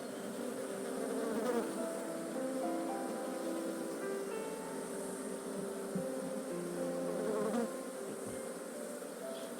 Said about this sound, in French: les abeilles, il y en a beaucoup qui sont à l'extérieur.